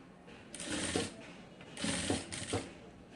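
A sewing machine stitches a cotton fabric dress in two short bursts of rapid mechanical whirring, close and moderately loud with brief quiet between them.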